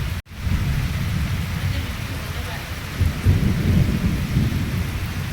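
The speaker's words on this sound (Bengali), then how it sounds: "যত সময় গড়াচ্ছে বৃষ্টি জোরেই আসছে, দেখা যাক আজকের কেমন বৃষ্টি হয়।" Heavy rain falls steadily and loudly, with low rolling thunder rumbling beneath it that swells in the second half. The sound is continuous and close, with no voices.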